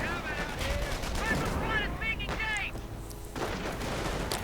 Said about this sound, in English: Mortar firing away, and the German troops going for that victory point.